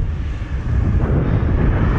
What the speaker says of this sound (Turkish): Rüzgarlı, çok rüzgarlı.